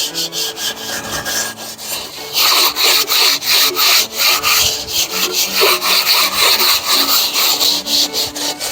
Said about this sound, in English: We're going to scrub the vent holes too.